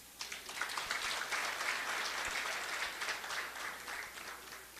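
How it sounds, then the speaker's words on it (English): Steady applause from an audience at an evening Marketing Africa event, a dense wash of many hands clapping continuously at even loudness throughout, with no voices standing out. "Let's clap for him."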